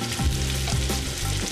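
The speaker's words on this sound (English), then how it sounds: "we want to hear it sizzle when it gets there" Monkfish sears in a hot pan, giving a loud, close, continuous sizzle and crackle with brief stirring or shifting sounds over it, and no talking.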